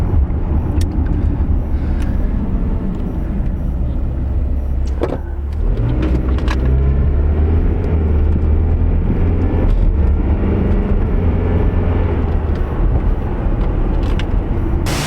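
A 2010 Toyota Camry with its check engine and traction control warning lights on cruises along the road, giving a steady, close interior drone of engine and road noise with a brief dip midway and no talking.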